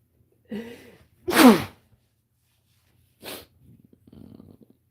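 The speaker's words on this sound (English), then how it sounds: "About to sneeze." A person sneezes once, a loud explosive burst after a short sharp inhale, then softer breathing and a quiet follow-up sniff, heard close with no talk.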